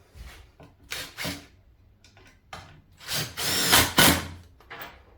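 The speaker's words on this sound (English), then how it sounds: "And then I'm just going to sink some screws into them." A power drill drives decking screws into wood in several short bursts, a brief whir followed by a longer, louder spin near the end, heard close in a workshop.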